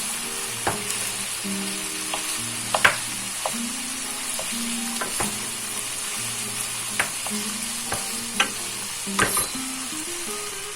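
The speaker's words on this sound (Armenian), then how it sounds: "Այս ընթացքում չենք մոռանում խառնել մեր սոուսը։" Sauce being stirred in a frying pan, with onion browning, produces a soft continuous sizzle broken by scattered scraping clicks of the utensil against the pan, while a low melodic tone runs underneath and nobody speaks.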